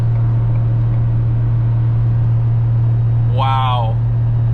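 A 2023 Ford F250 with a 7.3L gas V8 tows uphill on a 6% grade after dropping to third gear, giving a loud, steady engine drone throughout, with a brief voice near the end.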